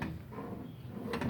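A drawer on a Multipro STT90-5L tool box slides open in a brief, quiet scrape with a light knock at the end.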